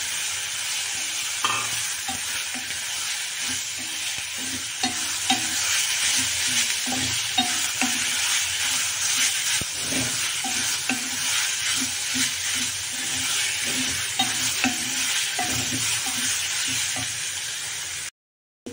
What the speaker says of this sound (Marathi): आता या गरम तेलात हा ठेचा चांगला परतून द्यायचा